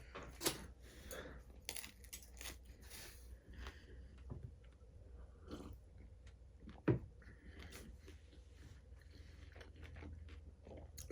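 Someone bites and chews crunchy food during a meal challenge, giving irregular close crunches and bites with quiet chewing between them, several sharp louder bites standing out, no talk.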